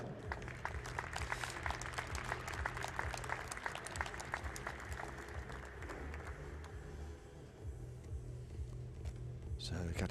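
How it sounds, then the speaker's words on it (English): A crowd gives sustained, moderately distant applause for Polish athlete Katarzyna Mazurczewska at a 10m vision-impaired prone shooting European Championship in Hamar, the clapping fading after about six seconds as an announcer's voice carries over it. "a very big round of applause for our Polish athlete, Katarzyna Mazurczewska"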